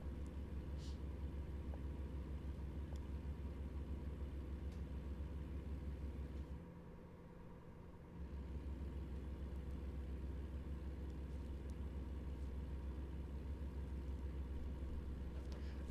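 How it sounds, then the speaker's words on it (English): A truck engine rumbles steadily while driving, a low continuous drone with a mid-pitched hum, dipping briefly partway through before resuming, with no talk over it. "is the truck engine still drowning out the voice"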